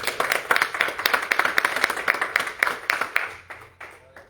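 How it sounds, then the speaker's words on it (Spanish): Church congregation clapping in a steady rhythm during a worship service, loud and together at first, then fading out with a few scattered claps near the end. "Dale fuerte ese aplauso al Señor."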